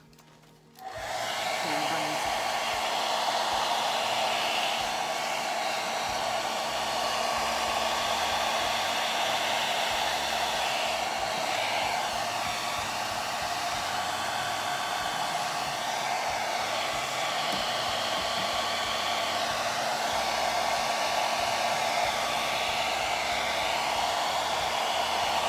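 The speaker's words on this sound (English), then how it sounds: "the blow dryer." A blow dryer runs steadily in close range, switching on with a short click and then holding a constant loud whooshing hum with a faint tonal whine, no voices.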